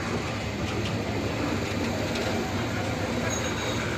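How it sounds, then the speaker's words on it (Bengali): A train rolls slowly across the Kalurghat bridge in Chittagong, a steady continuous rumble of wheels and cars held at an even level throughout, with no talking. "ট্রেন আইয়ে খুব আস্তে আস্তে"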